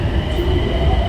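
A Nagpur metro train rumbles loud and close with a low, steady roar and a faint whine above, heard from inside or beside the train.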